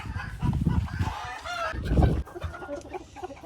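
Laying hens of mixed breeds cluck close by in an old barn, with overlapping bursts of throaty clucks and a few sharper calls sounding in quick succession.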